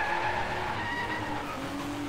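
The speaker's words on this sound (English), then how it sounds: "That was a really fun drift." A car drifts in the racing video game DRIVECLUB, its tires squealing in a sustained high whine over a steady engine roar, loud and continuous with no talking.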